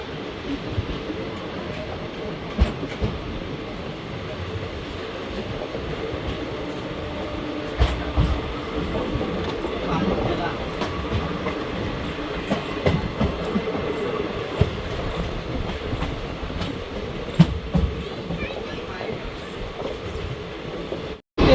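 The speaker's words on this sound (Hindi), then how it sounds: "हमारी ट्रेन जो है एकदम लोकल है, तो हर स्टेशन पे रुकते हुए जा रही है" An old local double-decker train runs steadily along the rails, a continuous near rumble with rhythmic wheel clacks and occasional sharp joints, with faint voices in the background.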